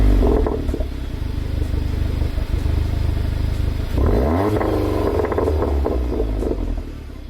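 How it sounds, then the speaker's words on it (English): A Seat Leon Cupra 280 idling after a cold start, a deep, steady engine rumble with a brief rise in revs midway, close and loud with no talking. "The second thing is the noise this car makes, even from a cold start."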